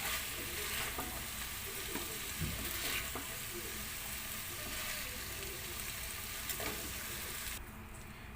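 Fish frying in a pan for Filipino fish sisig, a continuous close sizzle with occasional clinks and scrapes as pieces are lifted out, quieter at the very end.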